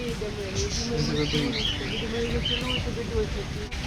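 Parrots chirping and squawking in a busy chorus at a bird park in Kuala Lumpur, Malaysia, with voices talking quietly underneath throughout.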